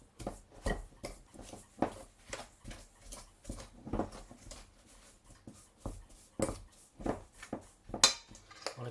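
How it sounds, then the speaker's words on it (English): Butter is worked with a fork until smooth, giving a series of close, irregular taps and scrapes against the bowl, roughly two or three strikes per second, with no talk. "with a fork mix it round until it's smooth"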